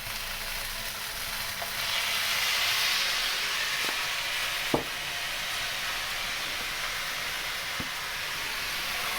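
Light soy sauce hits noodles in a very hot pan and gives a loud, steady sizzle and hiss close by, with a few faint utensil clicks against the pan.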